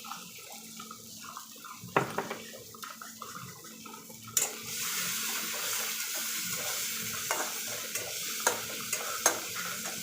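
Mustard seeds fry and pop in hot oil in a home kitchen pan, giving a close sizzling hiss that swells and steadies after a few seconds, with sharp scattered crackles and a few stirring clinks.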